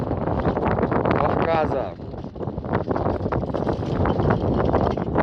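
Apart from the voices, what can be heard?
strong wind on a mountain summit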